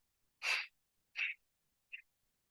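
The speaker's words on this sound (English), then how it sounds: "If you are doing the breath of fire, it's a pumping motion we want to imitate." Breath of Fire breathing exercise: three sharp, forceful nasal exhales pumped out one after another, close and clear against silence, each shorter and softer than the last.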